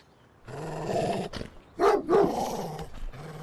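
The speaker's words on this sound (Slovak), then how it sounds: "Fíha, máš krásneho psa." A dog snarls and growls low, then breaks into two sharp, loud barks close by, followed by more rumbling growls.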